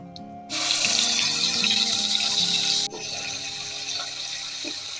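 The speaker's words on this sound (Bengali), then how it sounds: "পেঁয়াজ বাটাটা ভেজে নেব এগুলোতে।" Onion paste sizzling hard as it drops into leftover prawn-frying oil seasoned with cardamom, clove and bay leaf, a loud steady hiss that jumps up sharply then settles to a lower continuous frying sizzle, no talk.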